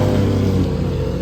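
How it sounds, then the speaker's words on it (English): A loud race car at the Rennsport Reunion, likely a GT1 racer, roars close by in a steady, dense engine rumble that fills the whole moment with no talk over it. "I don't know what car that is, but it's seriously loud."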